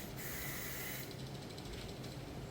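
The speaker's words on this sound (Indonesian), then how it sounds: "Kalau ini langsung kita gantung bodinya, jadi kita semprot muter tipis merata." Aerosol spray paint from a Diton premium can hisses onto a hanging motorcycle body, a steady faint spray burst lasting about a second followed by quieter hissing, with no talk.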